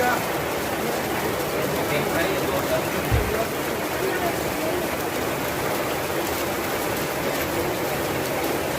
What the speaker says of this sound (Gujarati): વરસાદ ચાલુ થઈ ગયો એકદમ જોરદાર